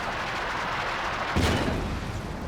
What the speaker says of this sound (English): a big shot from the Sherman